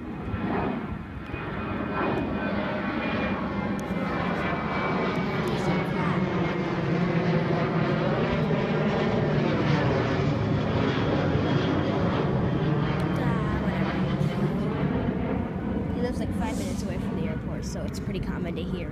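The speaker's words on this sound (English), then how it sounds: "Another plane." A steady, broad roar of an airplane passing overhead fills the whole stretch, with people talking softly underneath.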